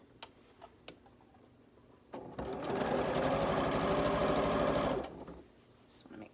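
Sewing machine stitching two fabric strips together in one steady, close, whirring run of about three seconds, preceded and followed by a few light clicks and handling taps.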